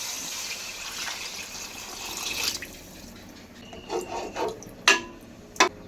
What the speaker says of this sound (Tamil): ஒரு லிட்டர் தண்ணி ஊற்றுறேன்